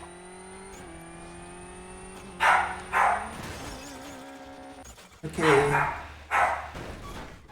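A household dog barks in two bursts of a couple of yelps each, moderately loud over the rising engine whine of a Colin McRae: Dirt rally car, with someone briefly speaking.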